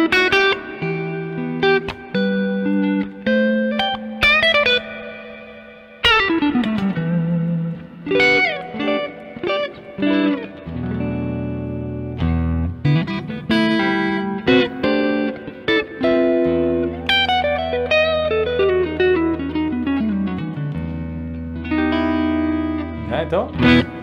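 Sustained guitar-like notes and chords played through a Caline Ragnarok reverb pedal with decay set high and mix set low, each note ringing out with a long, subtle tail over steady, fairly loud playing.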